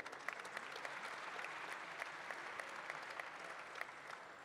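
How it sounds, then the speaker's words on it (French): Steady, even audience applause at a plenary session on youth changing the world, a dense sustained patter of many hands held at moderate level throughout. "Je vous demande de l'applaudir également."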